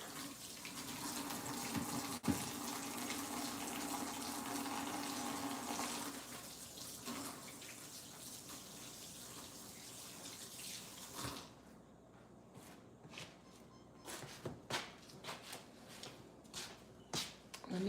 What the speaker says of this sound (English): Let me wash my hands really well